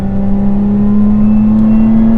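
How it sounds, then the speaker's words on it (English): A Lotus Emira's engine pulling hard on a back road, a loud, steady, rising drone from close inside the car, alone with no talking. "I wanna give you a little taste of what this car sounds like"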